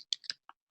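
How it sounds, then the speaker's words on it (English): A few quick keyboard keystrokes, close and soft, in an irregular burst of about four taps with a pause before a final light click. "I am just typing that in at the moment."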